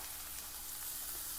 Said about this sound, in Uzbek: Piyoz solib qovurib olamiz.